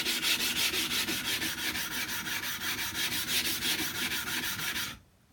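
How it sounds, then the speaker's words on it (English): A diamond plate is rubbed back and forth across a knife-sharpening stone to flatten it, making a fast, even series of about twenty gritty scraping strokes that stop abruptly near the end. "I'm going to take a diamond plate or whatever tool it is that you're using to flatten your stones"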